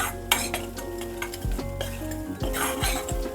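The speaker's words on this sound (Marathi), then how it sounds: "आता हे आपण अजून एक अर्धा मिनटं परतूया आणि मग बाकीच्या गोष्टी टाकूया हळूहळू याला तेल सुटायला लागलंय" Egg curry masala sautéing in oil in a pot, a soft sizzle under repeated spoon scrapes and light clinks against the pan, close and fairly quiet, with no voices.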